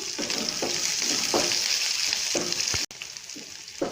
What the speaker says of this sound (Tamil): பச்சை மிளகா ஒரு நிமிஷம் வாசம் போகிற வரைக்கும் வதக்கிட்டு பூண்டு போட்டுக்கலாம்